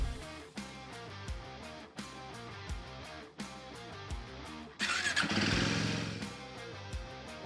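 A Royal Enfield Guerrilla 450 motorcycle engine, heard through a stretch of rhythmic, pulsing mechanical noise before it rises into a louder, sustained roar that fades away, with no voices.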